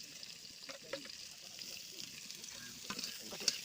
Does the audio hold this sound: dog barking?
no